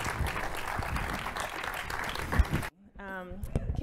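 An audience claps for a panel at the close of a discussion event, a full round of applause that cuts off abruptly, followed by a brief spoken voice.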